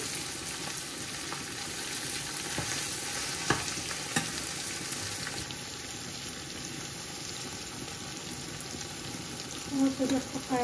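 Two medium onions frying steadily in a pan for a Bangladeshi beef and potato curry, a continuous close sizzle with occasional stirring clinks, and a brief voice near the end.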